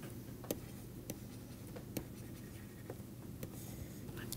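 Chalk or pen writing out a lemma during a mathematics lecture on finite dimensional vector spaces, faint scratchy strokes with a few sharp taps over a steady low room hum, no talking.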